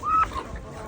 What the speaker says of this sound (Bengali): সব মুরগি চলে আসবে এখানে